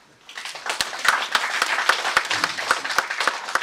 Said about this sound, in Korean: 자부하시면 박수 한번 보내십시오